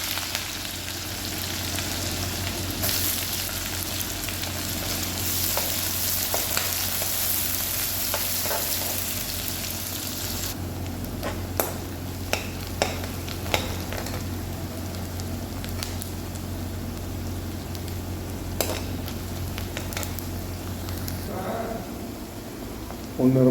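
Green chillies and onion fry with popped mustard seeds, a steady loud crackling sizzle up close, with scattered stirring clicks and taps in the second half and a voice talking now and then.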